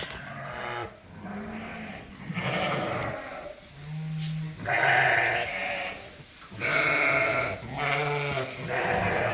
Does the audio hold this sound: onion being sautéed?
no